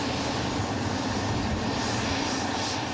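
Jet airplane landing at an airplane factory airfield, a steady, loud, broadband engine roar and rushing air that holds constant throughout, heard close with no talk.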